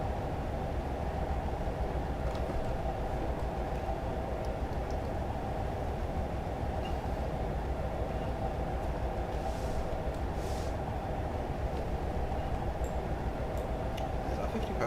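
A Class 57 locomotive in Train Simulator 2020 coasts at 50 mph on the Plymouth to Penzance route, giving a constant, even rumble of wheels and engine with faint ticking clicks over the top.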